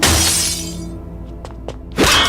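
Car window glass is smashed in a single loud crash at the start, then sharp shards tinkle and fall, and a second heavy smash follows at the end. Nobody speaks.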